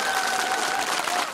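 Audience applause at a Korean tightrope walking (jultagi) performance, a steady wash of clapping from a crowd, fairly loud and continuous, with a faint voice underneath.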